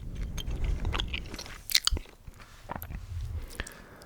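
Close, moist chewing with soft clicks and squishes, irregular bites repeating over several seconds, heard alone.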